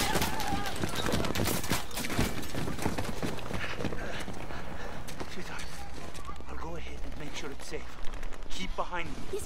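Gunfire in a Modern Warfare campaign mission, bursts of shots and clattering rapid fire in a busy, loud battle mix, with voices talking over the action.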